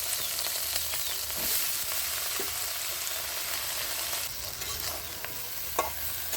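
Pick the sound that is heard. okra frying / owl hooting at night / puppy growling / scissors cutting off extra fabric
okra frying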